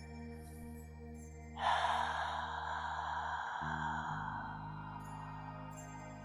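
A slow, deep exhale during a mindfulness breathing exercise, one long breathy rush that starts abruptly and fades gradually, close over a steady low hum.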